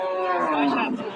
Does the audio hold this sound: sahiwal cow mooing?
yes